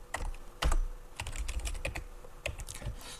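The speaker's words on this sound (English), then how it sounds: "I'm going to type" Close, quiet clicking of keys on a computer keyboard in an irregular typing rhythm, with a couple of heavier key strikes and no talking.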